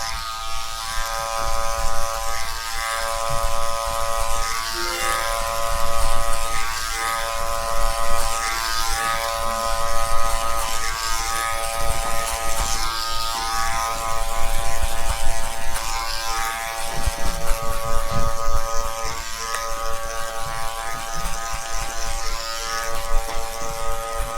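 Electric hair clippers buzz with a steady, close, high-pitched motor hum while cutting a drop down fade on a head of hair. Faint rhythmic pulses recur as the blade sweeps through the hair repeatedly over the length of the cut.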